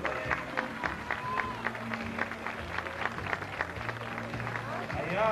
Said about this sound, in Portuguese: Vamos aplaudir as meninas, gente.